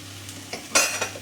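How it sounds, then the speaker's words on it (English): Chicken and shrimp nasi goreng is stirred in a hot wok: a few quick scrapes and tosses over a light sizzle, with the loudest stroke near the end of the brief burst. "give it a good stir, keep it moving around"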